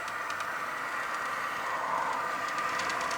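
A locomotive runs at 99% full throttle, giving off a steady, unbroken whirring hum with faint hiss and no change in pace, heard alone without voices.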